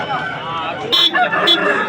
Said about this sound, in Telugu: మంచి తయారీలో ఉన్నటువంటి కోడి పుంజ అనమాట